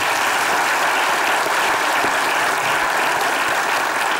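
Steady, dense applause from a large audience fills the room, continuous and loud with no voices standing out.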